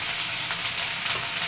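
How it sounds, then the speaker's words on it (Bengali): Spice paste fries in a pan for a Bengali egg curry, giving a steady, close, bright sizzle with a soft crackle throughout. "তার জন্য মশলাটা আগে একটু ভেজে নিব।"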